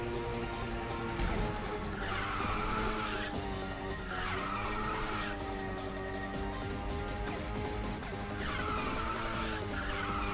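A race car in the Ridge Racer 6 video game roars at high speed, with repeated tire squeals and skids over continuous engine noise, loud throughout.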